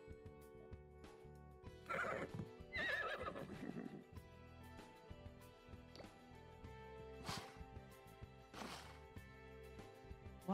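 Several horse neighs and whinnies in the video game Horse Ranch, bright loud calls at intervals over a steady game music backdrop, with faint hoof clip-clop.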